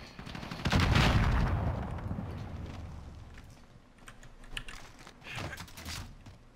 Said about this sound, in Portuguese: Caraca, é muito tiro.